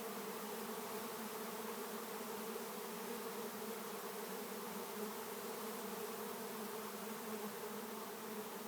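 A bee swarm from a docile hive drones all around at close range, a steady, dense buzzing that holds without a break and with no voices.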